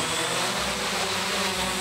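A rescue drone carrying a life tube flies with a steady, loud propeller whine and rushing air, continuous and close throughout, with no voices.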